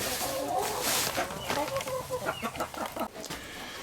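Hens clucking and murmuring close by while being fed freeze-dried mealworms, a busy run of short throaty calls with some background noise.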